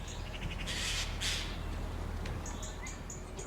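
Magpie calls, harsh squawking bursts early on followed by a short run of quieter repeated chattering notes, over a low steady background hum.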